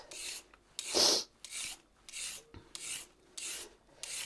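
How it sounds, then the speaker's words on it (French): Peeling a bell pepper with the serrated blade of a Tupperware peeler gives repeated close rasping scrapes, about seven short strokes in a steady rhythm with brief pauses between, no talk. "vous pouvez facilement l'éplucher avec la lame striée"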